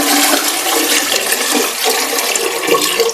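Water drains out of a plastic sitz bath tub with a loud, close rushing and gurgling splash that runs steadily for a few seconds.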